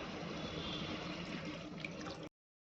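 Water is poured steadily and closely into soaked rice for tomato biryani, measured out by the tumbler, in a continuous splashing rush that stops abruptly.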